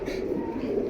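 Pigeons cooing steadily from inside a cage at a pigeon sale, a low continuous murmur of coos with no clear breaks.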